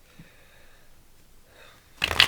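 A quiet pause, then a short loud burst of tarot cards being riffled and shuffled near the end.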